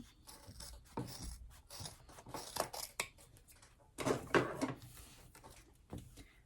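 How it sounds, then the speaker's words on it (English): Scissors cutting apart layered fabric for a mini clutch wallet, giving a series of close, dry rasping snips in irregular bursts, with a louder cluster near the end. "And we'll just cut that apart"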